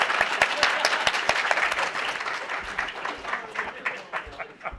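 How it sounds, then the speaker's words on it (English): Audience applause at a Kaijudo game panel, starting strong with sharp individual claps and gradually thinning and fading over a few seconds. "Clap."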